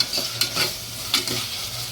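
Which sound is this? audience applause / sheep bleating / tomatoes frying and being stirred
tomatoes frying and being stirred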